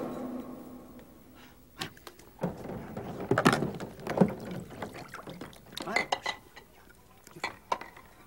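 Dirty dishes are washed and dried with clinking plates, rattling cutlery and splashy scrubbing in irregular bursts, close by, with voices speaking over parts of it.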